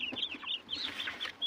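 Large chickens cluck close by in short, repeated bursts, several birds overlapping in a lively, fairly quiet farmyard chatter.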